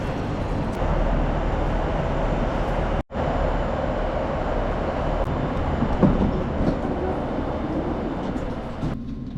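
A train to the Western Ferries terminal at Gourock, Scotland rumbles steadily nearby, a broad low roar with faint rattling, briefly cut off once before continuing.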